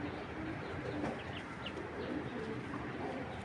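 Domestic pigeons coo softly and continuously, among them a silver male of an old tota breed. The cooing overlaps in a steady, close murmur with no talking.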